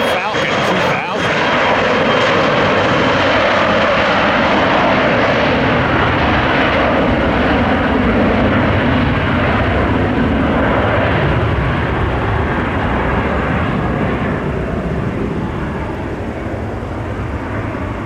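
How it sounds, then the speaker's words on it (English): A Dassault Falcon 2000 business jet at Tampa airport gives a loud, sustained engine roar that fades slightly toward the end, with voices heard over it. "That's a Falcon 2000."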